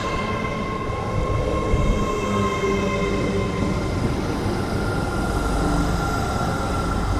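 A train at York station on the East Coast Main Line gives a continuous close rumble of wheels and traction motors, with a steady mechanical whine holding over the roar.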